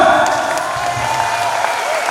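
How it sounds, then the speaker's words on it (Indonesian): A seminar audience at an Islamic boarding school applauds in a brief, dense burst of clapping that holds steady throughout. "Beri tepuk tangan saya semua"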